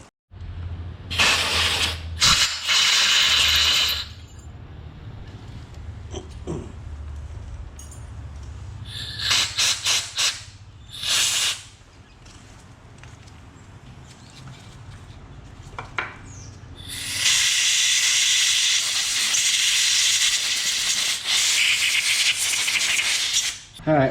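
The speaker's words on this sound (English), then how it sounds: "I've got to hit these with the air compressor real quick" Bursts of compressed air blow off Yamaha YZ250F brake parts, several loud hissing blasts of varying length separated by quieter clanks and handling noises, with one long sustained burst near the end.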